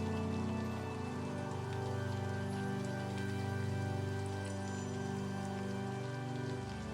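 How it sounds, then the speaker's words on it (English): Steady slow rain falling on a surface, a soft continuous patter with faint scattered drops, even and gentle throughout with no voices. "the rain continues, steady, patient, out there"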